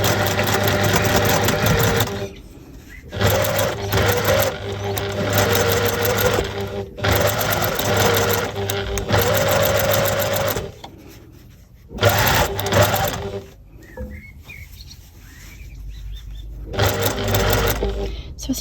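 A sewing machine stitches through a cut knitting steek with grey 100% cotton thread, running in loud, steady whirring bursts separated by short pauses. A voice is heard briefly between runs.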